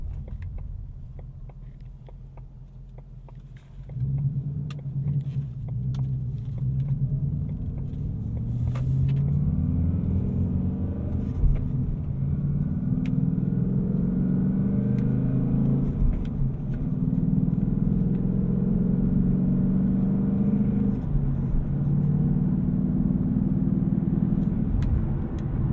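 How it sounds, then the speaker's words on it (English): Steady low road rumble and engine drone from a 2018 Ford Mustang GT Premium Performance Pack driving over a torn-up road, heard from inside the cabin, quieter at first then loud and continuous. "there's a lot of road noise and they have the road all ripped up"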